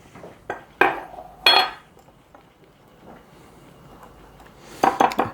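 A utensil clinks and scrapes against a bowl of banana bread batter made with Bisquick in a few short bursts, close up, with a quiet pause between strokes and no talking.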